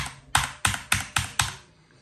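Five sharp, loud clacks of keys on an Acer Predator Aethon 500 gaming keyboard, struck at an even rhythm about a third of a second apart, each ringing briefly before the next.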